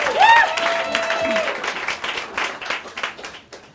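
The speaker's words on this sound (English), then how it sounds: "can we have a round of applause for Denisa?" An audience applauds at an Inspire'd talk event, a steady wash of clapping from a room full of people, opening with a brief whistle-like tone and trailing off toward the end.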